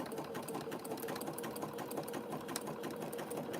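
A sewing machine stitches coiled fabric strips into a rope bowl, giving a steady, continuous mechanical whir close by with no pauses and no talking.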